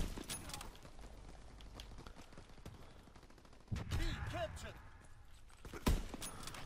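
Lee Enfield rifle shots crack in Call of Duty WW2 amid game battle noise, a few sharp reports, one especially loud near the end, with people talking over the action.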